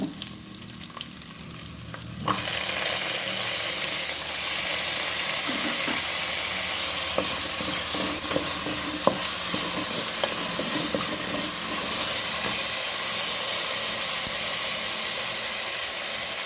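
Onions and tomato sizzle in a hot pan for a mushroom curry, stirred now and then. Quiet at first, then a loud, steady frying hiss with scattered scraping stir sounds runs to the end.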